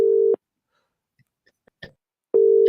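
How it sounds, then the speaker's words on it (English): An unanswered telephone call giving a busy signal: loud, flat electronic tone bursts with a long silent gap between them and a few faint clicks, no voices. "I'm going to put the phone call into Nathan Edge and see if he answers the phone now"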